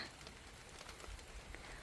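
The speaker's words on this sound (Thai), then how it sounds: "แต่ฝนก็มาด้วยเช่นกันค่ะ" Rain falling outdoors at a rural site with a newly built pavilion and a lit fire, a faint steady patter of drops with low rumbling, no talk.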